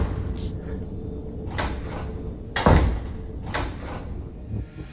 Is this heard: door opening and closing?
yes